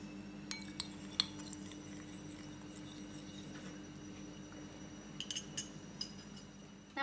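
Yeast and sugar are stirred into lukewarm water with a spoon, giving faint, sparse clinks against the bowl over a quiet, steady background hum.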